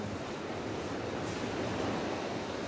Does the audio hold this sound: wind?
yes